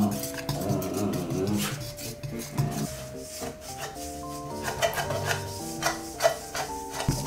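Dog cookie dough mixed with anchovy powder is stirred in a bowl, giving a soft, continuous scraping and rubbing with light clinks of the utensil against the bowl, close and fairly quiet, under faint background music.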